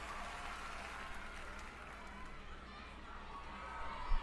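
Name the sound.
crowd cheering at a VMA performance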